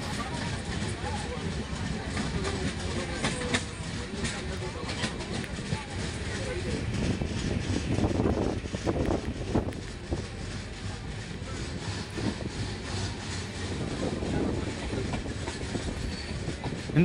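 A passenger train runs on rails between Chennai and Ongole, filling the space with a continuous rumbling roll and faint clickety-clack from the wheels, while someone talks over the noise.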